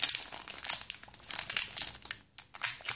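The plastic wrapper of a Pokémon card booster pack is torn open, giving a close, continuous run of crisp crinkling and crackling with a short pause before the rustling resumes.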